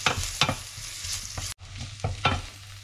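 Garlic, ginger and chilli sizzle in hot oil in a pan, with repeated scraping strokes of a spatula and one brief break in the sound.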